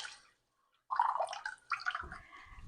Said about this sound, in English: I'm going to add a half a cup of water